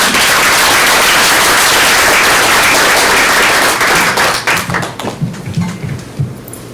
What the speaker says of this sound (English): I would like to extend another thank you and round of applause for coming.